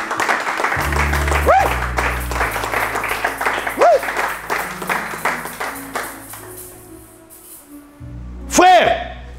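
Church congregation applauding during a preacher's sermon, bursts of clapping rising and falling beneath his amplified speech, with a louder swell near the end.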